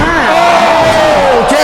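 An arena crowd at a women's wrestling match roars and whoops in one loud sustained burst, voices swelling together close and unbroken.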